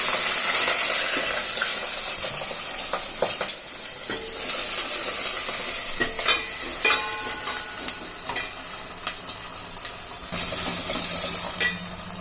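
Onions and curry leaves sautéing in hot oil, a continuous close sizzle with frequent stirring scrapes and clinks of a utensil against the pan, and a brief burst of running water near the end.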